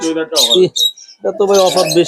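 Small caged birds at a bird shop offering lovebirds and talking birds chirp in brief high bursts between loud, close voices of people talking.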